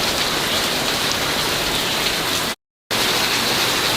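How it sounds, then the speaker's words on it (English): Steady, loud rainfall hissing on nearby surfaces, a continuous wash of drops, broken once by a brief moment of complete silence. "we're finally getting some rain"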